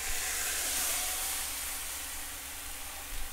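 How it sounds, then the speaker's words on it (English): A sirloin tip roast sears in hot olive oil, giving a steady, close, fairly loud hiss that holds evenly for the whole stretch with no voices over it. "We're gonna let it sear on each side for about 2 to 3 minutes."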